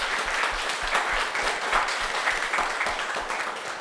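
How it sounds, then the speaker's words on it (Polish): An audience at an integration meeting with special guests applauds steadily with dense, overlapping clapping that continues at an even level throughout, with no talk over it. "Czekamy na oklaski wasze."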